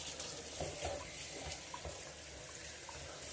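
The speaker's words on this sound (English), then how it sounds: "Just rinse the cutting board off, give it a quick hose down" Tap water runs steadily over a cutting board being rinsed in a kitchen sink, a continuous close splashing wash with faint spatters and no talking.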